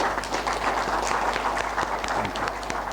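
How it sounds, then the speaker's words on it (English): Clapping as a university meeting closes, a room of people applauding in a dense, fairly steady patter over a low constant hum. "I think we all deserve a clap."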